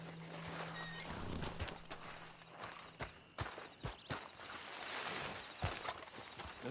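Horse hooves clip-clop in the Red Dead video game, a run of close, rhythmic hoof strikes on hard ground with a short whinny early on, all fairly quiet.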